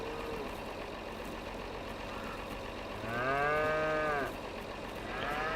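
Cattle in the Farming Simulator 22 video game moo in a long, loud call over a steady background hum of machinery, and a second low moo starts just as the clip ends.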